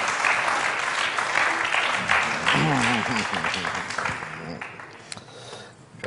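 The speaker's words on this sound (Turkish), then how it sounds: "Alkışlar." Audience applause at a Turkish entertainment show with songs, a dense burst of clapping under a voice and music, fading toward the end.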